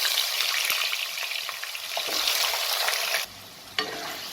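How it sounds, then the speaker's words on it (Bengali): Chopped potatoes fry in oil with bay leaf and dried red chili, giving a bright, continuous sizzle broken by stirring clicks and scrapes, then dropping suddenly to a quieter hiss near the end. "আলুটাকে আমি সামান্য 2-3 মিনিট একটু ভেজে নেব।"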